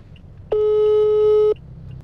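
A single long electronic telephone ring tone from an unanswered call, one steady pure tone lasting about a second, loud and clear against a quiet background.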